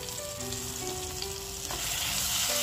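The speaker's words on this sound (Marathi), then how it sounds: "2 मिनिट आपल्याला हे वाटण परतून घ्यायचंय।" Ground spice paste sizzles in hot tempering oil with asafoetida and curry leaves in a pan, a steady close frying hiss with soft stirring scrapes, growing slightly louder near the end.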